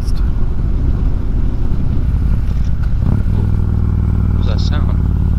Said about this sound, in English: Why does it make a weird sound when I downshift and I'm not supposed to?